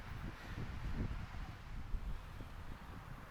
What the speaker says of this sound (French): le vent me saoule